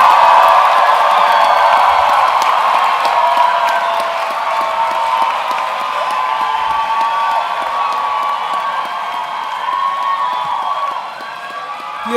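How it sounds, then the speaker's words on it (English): A large crowd applauds graduates at a Strathmore University graduation ceremony, a broad, continuous wash of clapping and cheering that stays loud, eases slightly midway and drops toward the end. "can we have a large round of applause for all graduates that we have seen today?"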